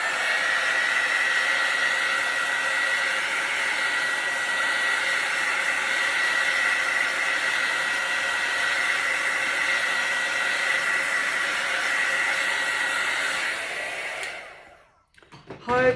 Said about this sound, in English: I'll just hit that with the heat embossing tool just to bring up any more cells